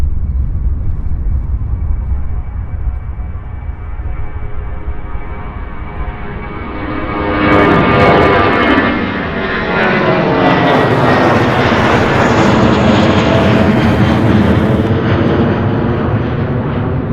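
A UPS heavy freighter jet takes off at Louisville's SDF airport on a windy day, its loud engine roar swelling around the halfway point and then sustaining a powerful, sweeping rumble to the end.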